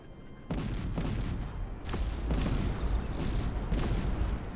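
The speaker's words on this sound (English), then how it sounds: "I think he's trying to shell the cannons of Metafrost, which are moving quite a bit forward." Cannon artillery fire in the strategy game Cossacks 3, several heavy booming shots overlapping in a continuous loud battle din of rumbling blasts.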